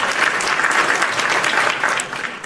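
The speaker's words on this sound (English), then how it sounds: "Hit my hand claps." A burst of hand-clap applause from a small crowd, dense and loud throughout before tapering slightly at the end, heard alone without voices.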